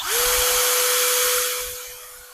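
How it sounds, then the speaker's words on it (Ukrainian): A Grosser GCD 161KBT cordless drill spins up and runs idle at second speed, giving a loud, steady high whine that settles after a quick rise and then fades slightly toward the end. "Давайте глянемо на холостому ходу. Так, друга швидкість вмикаємо."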